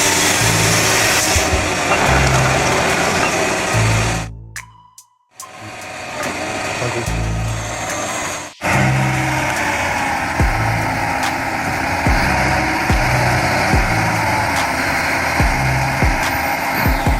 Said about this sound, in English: Now let's turn to the legendary green John Deere wheeled harvester.